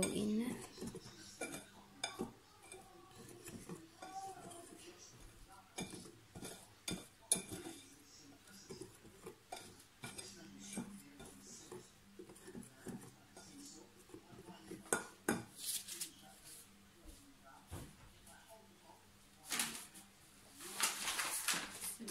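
Fried chicken ingredients mixed by hand in a bowl for a homemade KFC-style recipe: quiet, irregular clinks and scrapes of utensils against the bowl, with occasional louder knocks and soft rustling throughout.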